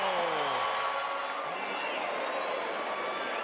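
Basketball arena crowd roaring at a Grizzlies home game against the Pacers, a dense sustained wall of cheering and whoops at constant loudness.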